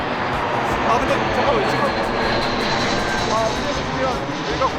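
An airplane passes low over a baseball field near an airport, a steady broad engine roar that fills the whole stretch at close range, with faint outdoor ambience beneath.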